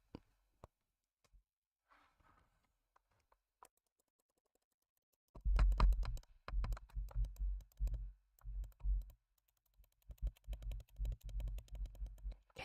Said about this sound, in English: Can you hear the clicking?